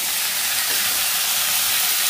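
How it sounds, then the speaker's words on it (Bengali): Boiled jackfruit is stir-fried in oil in a pan for a vegetarian dish, giving a loud, continuous sizzling hiss with no voices. "এবারে এটাকে ভালো করে নাড়বো ভাজা হওয়ার জন্য।"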